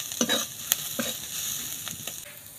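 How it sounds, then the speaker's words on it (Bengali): Crushed nuts and black pepper frying in a pan, with a steady close sizzle broken by several sharp scraping stirs. "সমস্ত কিছু ভালো করে একটু ভেজে নেব।"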